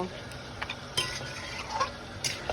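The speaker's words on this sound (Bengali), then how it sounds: "এবার টক দই দিয়ে আবার সুন্দর করে মাটনটাকে কষিয়ে নেব।" Mutton cooking with sour yogurt in a pan while being stirred: a scraping spoon, faint sizzle and occasional clinks of metal against the pan, fairly quiet and close.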